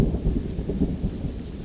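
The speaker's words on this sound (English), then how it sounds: "Here comes the thunder." Low rumbling thunder rolls through a swamp forest, a steady deep roar that swells and fades slightly, with no voices.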